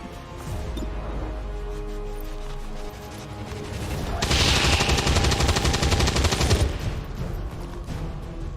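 Sustained automatic gunfire from the XCOM 2 strategy game, rapid bursts building to a loud dense volley midway before tapering off, with a low background hum.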